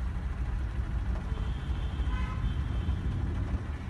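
Traffic jam on the road from Gurgaon to Delhi, with a steady rumble of idling cars, buses and trucks and a few short, distant horn toots over it.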